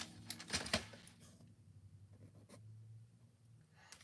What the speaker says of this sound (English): So let's get our trimmer.